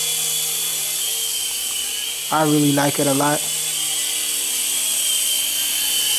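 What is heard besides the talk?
small toy helicopter flying indoors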